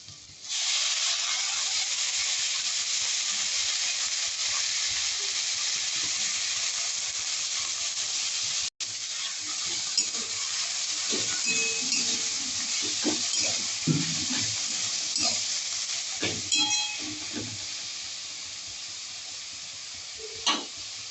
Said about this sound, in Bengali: এবার এর মধ্যে আমি যে সর্ষে ফুলটা বেছে রেখেছিলাম পরিষ্কার করে সেটা আমি এর মধ্যে দিয়ে দেবো